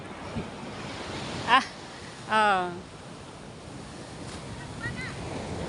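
Waves washing on a beach seashore, a constant rushing surf with wind buffeting the microphone, brief voices breaking through now and then.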